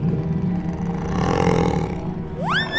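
A toy diorama lion gives a loud, sustained roar that fills the clip, with a brief rising squeal at the end.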